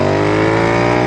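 A Royal Enfield INT/GT hybrid motorcycle built to resemble a Clymer revs loudly and steadily, its engine drone filling the whole short burst up close with no talking.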